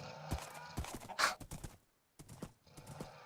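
Skeleton horses in the video game Minecraft give off faint, scattered hoof clops and a short whinnying cry, in separate bursts with a brief quiet gap near the middle.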